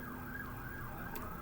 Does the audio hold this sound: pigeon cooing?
no